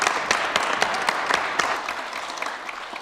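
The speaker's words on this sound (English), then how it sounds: "give them a big round of applause and welcome her to this" An audience in a legislative assembly chamber breaks into sustained applause, dense overlapping clapping that stays fairly loud throughout and eases slightly toward the end.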